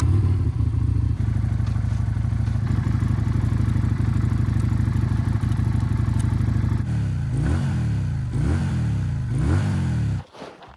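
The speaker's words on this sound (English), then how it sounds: "Now I need to warm the engine up so I can get rid of the brake-in oil." A V-twin motorcycle engine idles steadily and loudly up close to warm up, its rumbling note holding for most of the clip before a few clattering revs and an abrupt cut at the end.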